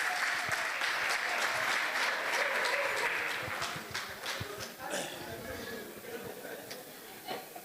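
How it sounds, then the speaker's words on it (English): Audience applause for a closing speaker at a university innovation talk series in Malawi, a dense steady round of clapping that thins and tapers over the last few seconds, with faint voices underneath. "A big hand for Mr. Massey."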